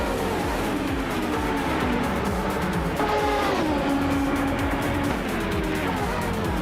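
Video game race cars roar past in a close pack, engines droning and shifting pitch with brief tire squeal, a continuous loud racing din.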